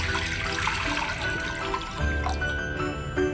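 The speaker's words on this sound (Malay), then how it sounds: "Kemudian jeram periuk dan masukkan air." Water streams steadily into a cooking pot for a few seconds, a continuous splashing pour with no talking.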